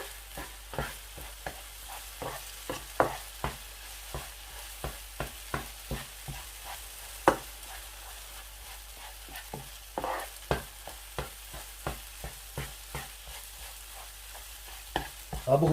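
A semolina mixture cooks in a pan while a spoon stirs it in regular scraping strokes, roughly one every half second, over a low background sizzle, close and quiet.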